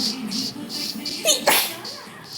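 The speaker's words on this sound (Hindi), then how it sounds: "तो छींक मत, मेरे कैमरा पे छींक दिया।" A single sneeze bursts out over background chatter while playing Minecraft, loud and close, followed by a brief noisy tail.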